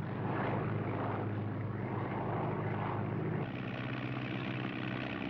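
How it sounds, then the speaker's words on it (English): A propeller airplane in flight in a 1941 film, giving a steady, dense engine drone that stays loud throughout with a slight drop in tone partway through. "Maybe if we get close enough, you can tell Fibber how to land the plane"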